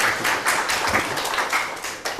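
An audience welcoming the chairman of Red News Group as a guest, with dense continuous clapping spread evenly across the clip, close and fairly loud, no voices over it.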